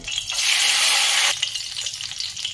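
A cinnamon stick and two bay leaves drop into hot mustard oil and burst into a loud, hissing sizzle for about a second, then settle into a softer, crackling fry close by.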